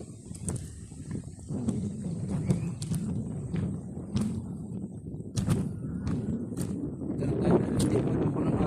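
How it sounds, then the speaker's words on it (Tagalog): Gusty wind buffets the microphone while choppy river water slaps and splashes in irregular bursts, with no voices. "hangin at maalon"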